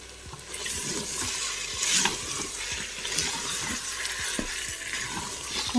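Celery sizzles and spatters in a hot pan as it is browned, a close, continuous crackle with scattered pops and light stirring clicks.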